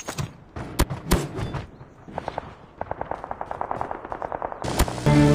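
Sentry gun fire in COD Mobile zombie mode, starting with a few heavy separate shots and then a fast, steady burst of automatic fire, loud and close, ending in a louder blast.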